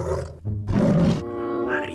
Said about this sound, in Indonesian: Ini harimau teman-teman.